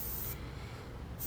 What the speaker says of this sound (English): So here I'm starting to spray the light gray.